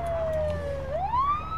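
American police siren in the zombie survival game Project Zomboid: a loud, steady wail that dips and then sweeps upward, carried over a low engine rumble, with no talk.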